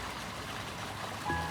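Water from a crescent-shaped park waterfall fountain pours in a soft, steady wash, a constant spattering hiss heard from a short distance, with a faint brief tone near the end.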